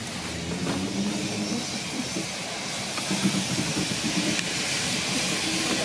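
A diesel multiple unit train runs along a railway at steady speed, giving a loud, continuous rumble with a hissing wash and faint rhythmic clatter, heard from on board with no talk.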